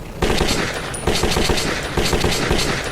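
A gun fires rapidly at a shooting range in the video game Metro 2033, loud close bursts of automatic shots in a fast steady rhythm with no talking.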